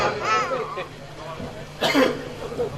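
A man at a Ramamandal devotional folk drama performance in Surat coughs once, a short sharp burst close to the microphone, with other voices and stage noise around it.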